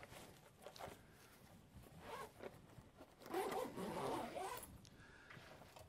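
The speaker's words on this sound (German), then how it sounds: "Auch die sind wieder mit High-Vis-Reißverschlüssen markiert." Several drawn-out zip pulls on a high-visibility zipper of a Stoirm messenger bag pocket, close and quiet, the longest and loudest in the middle, with no talking.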